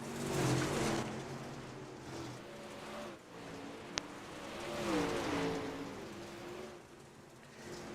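Race cars lap a track during a four-lap-to-go heat race, engines droning and swelling steadily as they pass at moderate distance, with a continuous roar and no talk.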